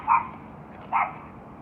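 Two short, sharp barks from a small dog, spaced under a second apart and heard fairly close in an otherwise quiet indoor room.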